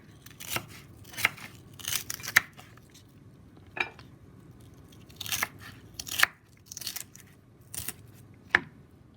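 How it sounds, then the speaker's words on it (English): A knife dices Swiss chard stems and hard cabbage on a cutting board, giving sharp, irregular crisp chops and crunches spaced a second or so apart, close and fairly quiet, with no talking. "So I'm going to dice every part of it nicely and use it."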